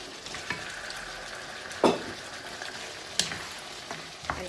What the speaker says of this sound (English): And keep stir fry for 2 or 3 minutes.